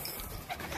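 Racing pigeons coo softly and briefly, a faint low murmur close by at a loft where birds have just returned from a race.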